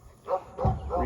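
An American Pit Bull Terrier gives three short, close barks in quick succession.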